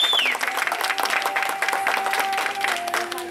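Steady, close crowd applause at an evangelical birthday celebration runs through the whole stretch, thick with overlapping claps and a few faint voices beneath it.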